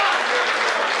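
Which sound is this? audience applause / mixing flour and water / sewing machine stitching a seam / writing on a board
audience applause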